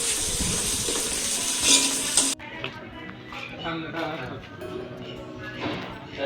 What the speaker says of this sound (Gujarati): મસાલો ચડી જાય પછી આપણે દાળને વઘાર કરી દઈએ.